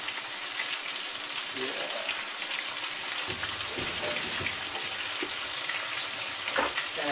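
Panko-coated shrimp fry in hot oil with a steady, close crackling sizzle and occasional pops; a brief word is spoken.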